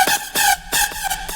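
A layered "pew" sample in a house track, a bright zapping hit that falls in pitch, repeats about five times in an uneven bouncy rhythm, sounds alone with no voices, and pumps from sidechain ducking.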